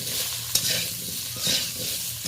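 Potatoes frying over low heat in a little oil with salt and turmeric give a steady soft sizzle, with a couple of sharp utensil scrapes against the pan; no one speaks.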